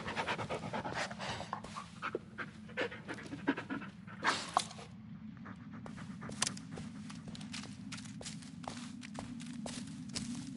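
Close, rhythmic panting from a dog in the horror video game Blair Witch, quick breaths continuing throughout alongside soft footsteps on forest ground.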